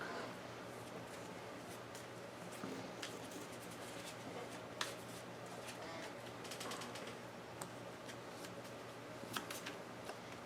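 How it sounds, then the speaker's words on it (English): Playing cards being shuffled by hand during a tabletop Pathfinder Adventure Card Game session, giving soft riffling and slapping rustles with small clicks that run throughout, close and moderately quiet, with faint background room noise. "You put the card in, and I'll shuffle it real quick."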